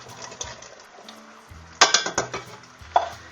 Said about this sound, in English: get you a pot and dump in your kidney beans.